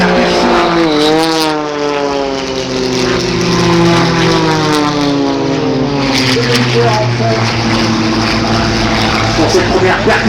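Propeller aircraft flying aerobatics at an air show at Villeneuve-sur-Lot, a loud, sustained engine drone whose pitch slides down as the planes pass, under an announcer's commentary.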